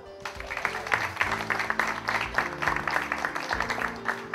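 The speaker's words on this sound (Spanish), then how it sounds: "Un aplauso, por favor" An audience at a university book presentation applauds to welcome a standing student, a busy patter of clapping that builds, peaks and tapers, with faint sustained tones beneath.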